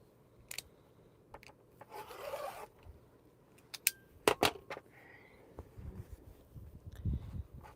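Fabric strip for a T-shirt quilt being cut, with scattered rasping slides and sharp ticks, likely a rotary cutter and ruler on a mat, close but fairly quiet amid low background noise.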